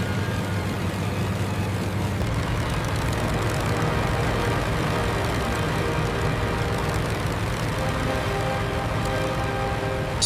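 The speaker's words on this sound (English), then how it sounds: "Speeding up for takeoff," Twin engines of a P-38 Lightning aircraft rev up for takeoff, a loud, steady propeller drone that swells and holds close by.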